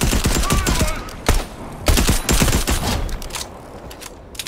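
Rapid submachine gun fire in a video game, loud close bursts of sharp shots in quick succession, thinning out toward the end.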